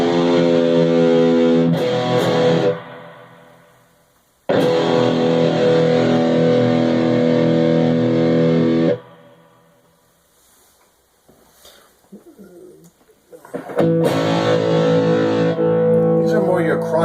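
A Blackstar ID Core 10 amp pushes a crunchy distorted guitar tone, loud strummed chords in two long bursts separated by a brief quiet stretch of faint picking, then the strumming returns.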